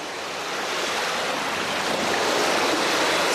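Roaring sea waves surge in a continuous, loud broadband wash that builds slightly over a few seconds, with no voices.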